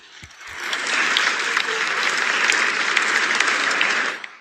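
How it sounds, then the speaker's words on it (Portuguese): A recorded audience applauds Lula, a dense burst of clapping that swells in quickly, holds steady and loud for about three seconds, then tapers off. "Várias vezes em que Lula falou e foi aplaudido"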